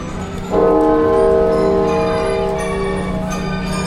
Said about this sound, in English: Those bells are bloody loud.